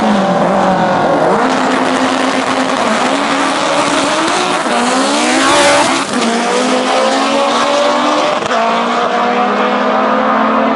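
700 bhp K20-powered Honda Civic EG front-wheel-drive drag car launching at a doorslammer race, engine screaming at high revs through rapid gear changes with tire squeal, loud and close throughout.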